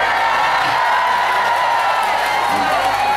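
A crowd at an Indonesian sermon applauds and cheers in a dense, continuous wash of clapping, with a voice speaking over it.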